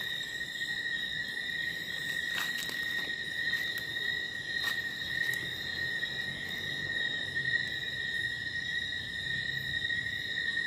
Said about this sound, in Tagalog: Grabe yung mga kulisap dito guys.